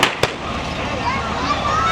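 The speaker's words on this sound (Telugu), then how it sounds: "అలా క్రాకర్స్ కాల్చుకుంటూ వెళ్ళాలన్నమాట" Firecrackers set off during a Maha Shivaratri village procession, heard as two sharp bangs close together at the start, followed by a steady noisy crowd wash.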